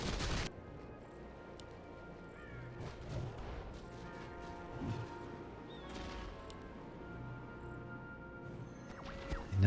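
Undead detonate spell explosions crackle through a busy Warcraft III Elf versus Undead tournament battle, with a few sharp bursts at the start and end and near the middle over a steady wash of in-game combat noise.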